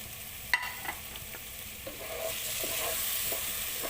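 Onion frying and stirred in a pan while making sambar, a steady sizzle with scraping stir strokes and a few sharper clacks, close and moderately loud, no talking.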